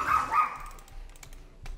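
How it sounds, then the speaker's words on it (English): A dog gives a couple of short barks at home during an online game session, close and fairly loud at the start, followed by scattered light keyboard clicks. "Why is she barking?"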